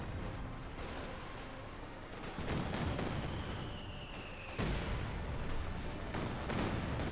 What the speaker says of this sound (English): Close range Katyusha barrage, having quite an impact then like Kedmev, almost wipes it